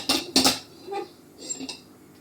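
A metal kadhai is set down on a kitchen stove with two close, ringing clanks, followed by fainter scraping knocks of cookware.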